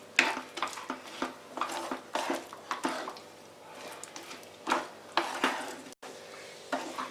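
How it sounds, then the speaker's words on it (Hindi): Peanuts stirred into jaggery syrup in a pan: repeated soft scraping and stirring strokes with faint sizzling, close and quiet, with brief pauses between strokes. "तो आइए हम मूंगफली के दाने को डाल देंगे और इसे अच्छी तरह से हिला देंगे।"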